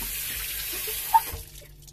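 Water running from a kitchen tap while a tomato is rinsed, a steady soft hiss for over a second with one small splash, then stopping and leaving near silence.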